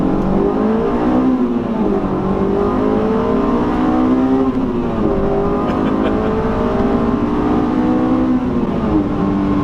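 A stock Honda S2000 with 240 horsepower accelerates hard in a straight line, its engine note climbing steadily through the revs and dipping at each gear change, loud and close throughout with no talking.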